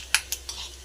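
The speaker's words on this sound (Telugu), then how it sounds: "ఫస్ట్ ఒక ప్యాన్ తీసుకుని దాంట్లో 1 కప్పు పల్లీలు, 1 పావు కప్పు పచ్చిశనగపప్పు" Dry peanuts and raw chana dal tipped into a metal pan, three quick close rattling clinks, the first loudest, trailing into a brief patter, with no talking.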